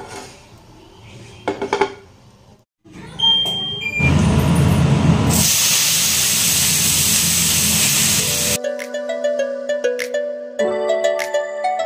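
Bathua greens hit hot oil already holding green chilli and eggplant, bursting into a loud, sustained sizzling hiss for several seconds before it cuts off, with metal utensil clinks before and after.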